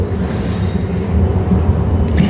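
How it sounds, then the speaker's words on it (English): A 3-car passenger train on the Thornlie-Cockburn line rumbles steadily with low, continuous rolling noise and a faint squeal of wheels, heard close up and without talk. "So yes, this is a 3-car train"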